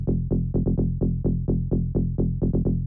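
A saw-oscillator tech house synth bass hammers out a fast double-time pattern, about a dozen short punchy notes in quick succession with occasional tighter pairs, playing alone at moderate volume.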